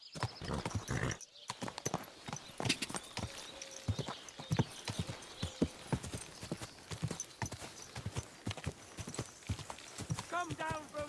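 Horse hooves clip-clop in the video game Kingdom Come Deliverance 2, a steady run of close, crisp hoofbeats with an occasional snort, while voices talk over them.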